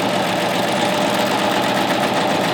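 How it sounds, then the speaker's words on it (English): A Baby Lock Triumph serger stitching cork runs with a loud, close, steady mechanical whir and rapid knocking rhythm, with no pauses or talk. "I'm going to lower the presser foot and do a little bit of stitching to make sure that the stitch actually"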